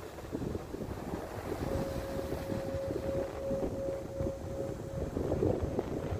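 Sea waves wash steadily against the shore, mixed with continuous wind noise and a faint steady hum, like a distant boat engine, with no voices.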